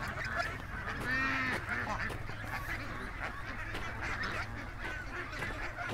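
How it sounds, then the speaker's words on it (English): A goose honks repeatedly nearby, its harsh calls coming in a loose irregular series over steady low outdoor background noise, with no talking. "the goose following me around"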